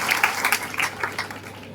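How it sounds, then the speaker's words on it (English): A brief burst of clapping at an International Nurses Week celebration at GMCH Sector 32, Chandigarh, honouring nursing prize winners, a few distinct claps at close range that quickly thin out. "Please give a big round of applause for them."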